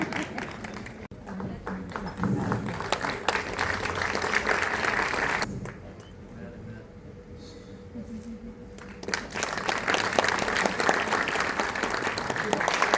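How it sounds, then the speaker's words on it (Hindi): An audience at a golden-era music concert bursts into loud applause, which briefly thins out before swelling again into dense clapping, with some voices mixed in. "मदन, आपके लिए एक बार जोरदार तालियां।"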